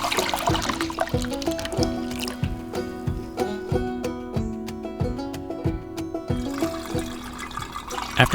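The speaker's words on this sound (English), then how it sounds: "After pouring through a particulate filter to snag any wayward cow hair, this raw milk goes straight to the fridge." Raw cow milk poured through a particulate filter, a steady liquid trickle and pour with rhythmic clinks and taps running throughout, close and moderately loud with no talking.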